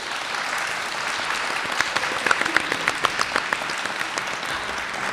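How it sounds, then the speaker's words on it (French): Audience applause after a museum talk on women's urban power in the Middle Ages, a steady, moderately loud clapping from a seated crowd with a few sharper individual claps standing out midway. "je pense qu'on peut les applaudir."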